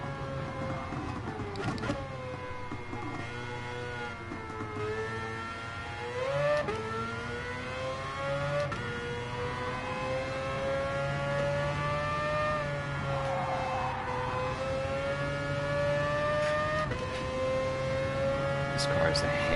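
A race car's engine in a racing video game holds a steady, buzzy revving drone with rising and falling pitch across about twenty seconds, a couple of sharp shifts breaking the tone.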